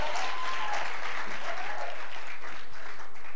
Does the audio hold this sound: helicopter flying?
no